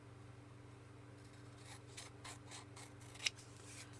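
Scissors snipping through tea-dyed paper card for a junk journal page, a run of quiet rhythmic cuts with a sharper snip near the end over a steady low background hum.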